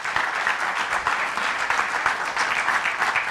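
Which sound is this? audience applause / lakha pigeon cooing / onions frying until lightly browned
audience applause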